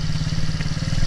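A kids' MRF 80cc motorcycle engine runs loud and close with a steady, throbbing low-pitched drone, holding an even throttle through a brief burst without any talk.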